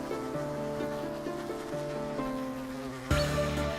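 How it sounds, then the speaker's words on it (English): Bees buzzing in the video game Windswept, a steady insect drone with a shifting pitch, layered over quiet game ambience and ending in a louder burst near the close. "I think these bees hurt us"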